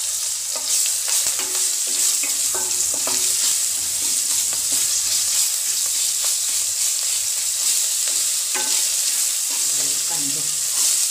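Garlic-ginger paste sizzles steadily in a pan with hing while a pumpkin bhaji cooks, broad continuous frying hiss with scattered spoon scrapes and stirring clicks throughout, close and fairly loud.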